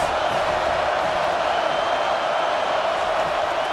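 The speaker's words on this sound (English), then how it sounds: "This crowd trying to make life miserable for this offense." Steady, dense roar of a stadium crowd at a college football game between UAB and Tennessee, continuous broadband noise with no distinct cheers or claps standing out.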